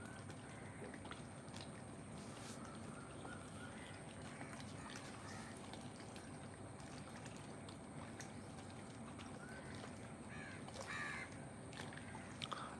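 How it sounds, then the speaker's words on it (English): Grey-necked crows cawing at dawn over Lake Vembanad, scattered harsh caws at a distance over a steady outdoor wash of ambient noise, faint and intermittent. "Lots of grey-necked crows flying around."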